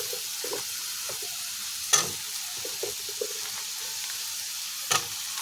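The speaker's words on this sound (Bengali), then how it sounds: "এবার আমি আলুটাকে ভালো করে কষিয়ে নেব।" Cut potatoes stirring in a cooked spice paste in a pan, with a quiet steady sizzle, soft scraping and a couple of sharper knocks of the spoon, heard close with no talking.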